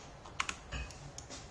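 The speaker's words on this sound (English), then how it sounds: "So press T on your keyboard to toggle." Keys tapped on a computer keyboard, a few sharp close clicks in a short irregular burst, with soft thumps between.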